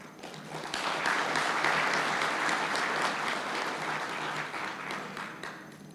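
An audience at an African educational assessment conference applauds, a dense, steady wash of clapping that swells quickly and holds for several seconds before tapering slightly.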